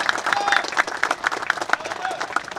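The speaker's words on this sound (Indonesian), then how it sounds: "Tepuk tangan yang meriah." Applause from a crowd at a Jakarta youth event, a brief burst of clapping with some voices in it, fairly loud and close.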